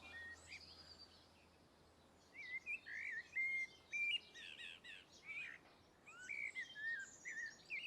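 Several birds chirp and warble in short bursts in a midsummer garden, over a quiet outdoor background, the calls close and lively with brief pauses between phrases.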